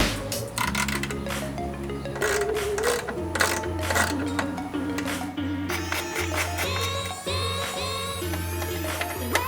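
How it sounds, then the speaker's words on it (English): A ratcheting wrench unscrews the bolts of a Jeep third brake light behind the open tailgate, clicking rapidly and repeatedly close by, over a steady humming background. "unscrew the 4 bolts on the back of your old brake light"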